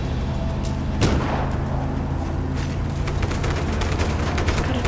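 Rapid gunfire bursts in the open-world action video game Just Cause 3, crackling and booming over a constant dense bed of engine and explosion noise, loud and close throughout.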